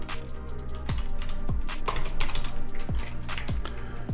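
Keys on a computer keyboard clatter in quick, irregular bursts as code is typed, close and moderately quiet, with no one speaking.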